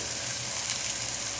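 Pork browning in canola oil in a hot pan, giving a close, steady, dense sizzle with no breaks.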